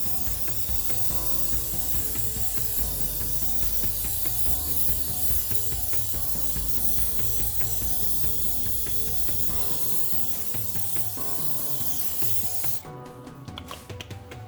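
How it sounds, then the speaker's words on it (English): A long, steady hiss of cooking spray sprayed onto a madeleine baking mold continues up close for many seconds, then cuts off, leaving faint clicks and handling noise. "You want to take your cooking spray and spray very generously on each mold."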